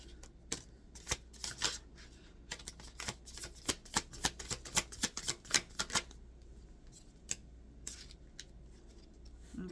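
Tarot cards are shuffled in a rapid run of crisp riffles and flicks that sound close and loud, then a few scattered slaps after a short pause. No one speaks.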